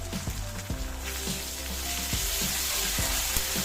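Onion, ginger and garlic paste fries in a pan for mutton mince kofta curry, sizzling steadily and loudly up close while a spoon stirs and knocks now and then.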